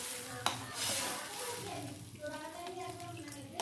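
Water is poured into a pan of fish curry that was sizzling, with a sharp splash at the start followed by a steady hiss and bubbling that settles slowly, heard up close.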